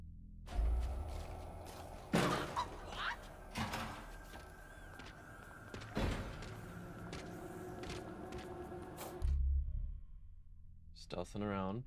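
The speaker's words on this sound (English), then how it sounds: "How can't she hear that banging on the door?" Heavy, irregular bangs on a door in Five Nights at Freddy's: Security Breach, several loud thuds spaced a second or more apart over a low, droning game ambience.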